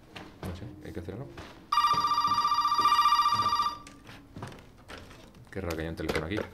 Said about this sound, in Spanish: Qué raro que haya un teléfono aquí